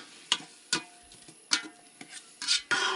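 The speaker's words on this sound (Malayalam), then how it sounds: "നമുക്ക് ഇത് നല്ലോണം ഒന്ന് അങ്ങോട്ട് ഇളക്കി കൊടുക്കട്ടോ" A large pot of dum biryani stirred over a wood fire, with sharp scraping strokes of a spoon against the metal pot roughly every second, close and fairly loud.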